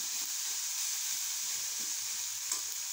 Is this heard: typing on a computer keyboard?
no